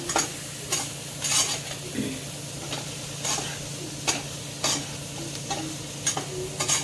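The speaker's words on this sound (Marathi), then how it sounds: "आता आपण चांगला मसाला परतून घ्यायचा." Black masala being stirred and sautéed in a hot pan for a Maharashtrian stuffed ridge gourd dish, with a steady frying sizzle broken by repeated sharp scrapes of a spoon against the pan.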